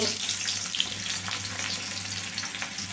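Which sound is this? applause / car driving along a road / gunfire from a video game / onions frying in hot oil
onions frying in hot oil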